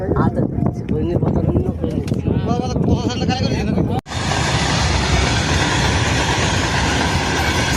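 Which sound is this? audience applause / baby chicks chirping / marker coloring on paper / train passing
train passing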